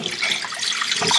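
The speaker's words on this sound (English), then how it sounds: "I'm gonna pour the water in a certain way" Water poured into a sink, a brief close splashing and gurgling rush lasting about a second.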